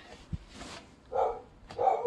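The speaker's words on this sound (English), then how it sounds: "My dog is going crazy outside." A few muffled dog barks from a distance, brief and spaced apart over a quiet background.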